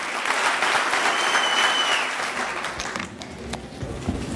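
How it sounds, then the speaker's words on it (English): Dense applause fills a banquet room as award recipients are honored at an annual charity dinner, loud and sustained before thinning to scattered claps with a voice starting up. "let's give a big round of applause to two people who are going to receive the award"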